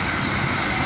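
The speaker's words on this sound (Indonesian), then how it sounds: "Ya, kita saksikan ada kereta lewat." A train rolls past close by in a village setting, a dense, continuous rumble with rattling texture throughout the short moment.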